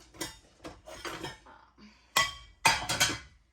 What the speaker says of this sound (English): now I'm just gonna put away some of the dishes that I washed this morning.